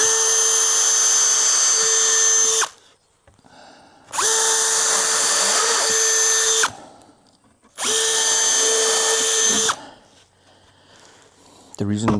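A power drill whirring in three sustained, loud bursts with pauses between, driving wood screws or boring pilot holes in wooden beehive planks; close and steady pitch, with brief clatter in the gaps.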